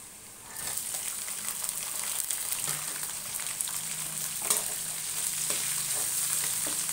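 Garlic and green chillies fry in a hot pan, giving a steady, close sizzle throughout, with faint scraping and stirring sounds now and then.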